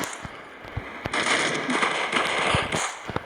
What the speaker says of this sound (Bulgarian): Има някаква пушка.